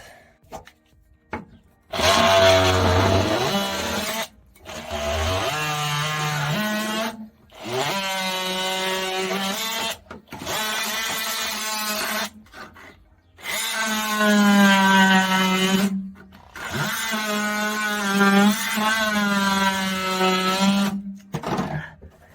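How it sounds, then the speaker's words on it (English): Rust being scrubbed off a Suzuki motorcycle with a wire brush, heard as loud, harsh grinding bursts in five long passes separated by short pauses, with no talking. "I'm gonna have to expose all that with the wire brush"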